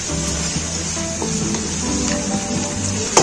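Gobhi gosht, a curry of cauliflower and mutton, sizzles steadily in a pan over a full flame, with an even frying hiss that carries on throughout and a brief clatter at the very end.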